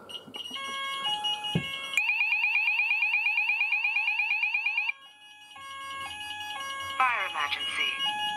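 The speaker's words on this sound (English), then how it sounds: "I'm just going to press the evacuation button, and we're going to hear it go off for a bit longer." An Apollo AlarmSense fire alarm system's evacuation sounder gives loud, repeating electronic tones: stepped two-note patterns, then a fast warbling pulse, then more stepped tones. Faint voices sit underneath.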